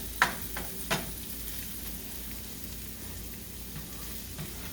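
Onions and chorizo fry together in a single pan, a soft even sizzle lasting throughout, with two sharp utensil clicks near the start and quieter scraping later, close and moderately faint.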